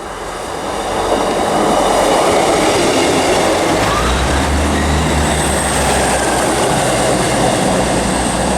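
A ScotRail Class 158 diesel train rumbles past close by at Chesterfield station, its engine droning steadily with rhythmic wheel clatter and a faint high squeal.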